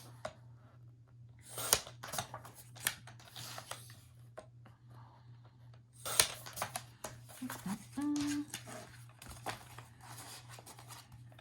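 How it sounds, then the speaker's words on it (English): Scissors snip through paper pattern pieces in quick bursts of short, crisp cuts with pauses between, close and quiet over a faint steady hum, with brief low voice sounds. "These guys are going to get cut apart."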